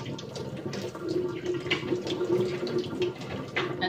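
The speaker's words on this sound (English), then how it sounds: "So I wash my face with water." Tap water running and splashing in a sink while a face is washed, a steady close hiss with irregular splashes and no talking.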